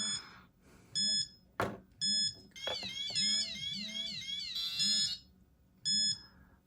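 A radiation detector alarm beeps in repeated bursts, mixing steady tones with warbling chirps, loud and close, pausing briefly between bursts.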